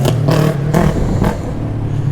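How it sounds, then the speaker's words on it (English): A noisy motorbike passes close by near a harbour bridge, its engine revving in a few rough, throaty pulses before fading slightly, with steady outdoor rumble underneath. "He's had a noisy motorbike."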